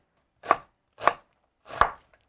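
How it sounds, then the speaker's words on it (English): A knife chops coriander on a board in three separate crisp thuds, close and clear, with short pauses between each cut and no talking. "chopping some coriander"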